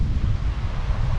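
Strong, gusty wind buffets the microphone beside a dirty, stormy sea at Anapa on a cold morning, with surf rumbling underneath in a loud, continuous roar.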